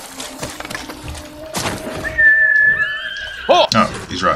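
A horse whinnies loudly in a high, quavering neigh in the video game Ghost of Tsushima, with crashing game sounds and voices talking around it.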